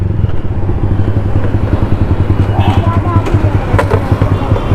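A Yamaha R15 V3 motorcycle ridden with three people aboard, its engine droning loud and steady up close, mixed with road and wind rumble and scattered rattles throughout.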